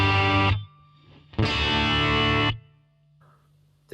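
Distorted electric guitar chords from a Yamaha Revstar through a Marshall DSL1 amp, two loud crunchy strums each ringing about a second and then cut off, leaving a steady low amp hum between them.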